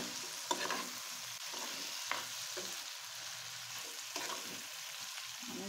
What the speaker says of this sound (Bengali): বন্ধুরা, একটু ঢাকাটা তুলে একটু নেড়ে দিই।